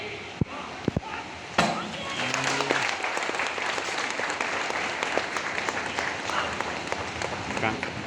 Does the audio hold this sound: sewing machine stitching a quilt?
no